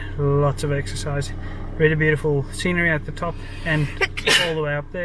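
A single sharp sneeze bursts out near the end, outdoors on a hike at Clevedon Scenic Reserve near Auckland, following continuous close talking.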